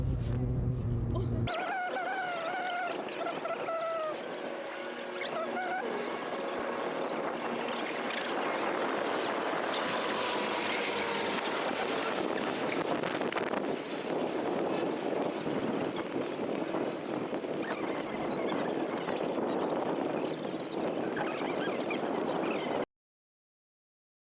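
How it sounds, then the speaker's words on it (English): Wind rushing across the open deck of the cruise ship Navigator of the Seas as it sails out of Los Angeles, a loud continuous roar buffeting the microphone with a low engine and water rumble beneath it, with no talk. "This is the sail away out of Los Angeles."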